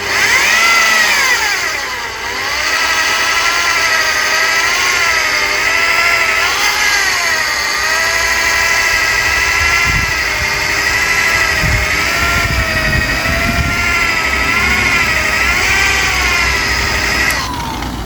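Machine polisher loaded with compound working on the bumper corner and crease of a Hyundai Accent 1.3 GSi, a steady loud mechanical whine with wavering pitch that holds nearly continuously and rises and falls slightly as the pad moves.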